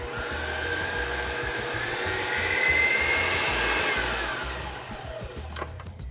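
KitchenAid stand mixer whisking eggs and sugar at high speed, a steady high-pitched motor whine with a whirring churn underneath, close and continuous, easing slightly toward the end.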